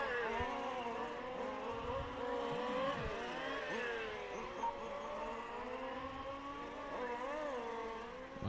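Race cars in a qualifying session at the Rucphen race car series circuit, engines droning and revving continuously as several cars pass close by, loud and sustained with shifting pitch.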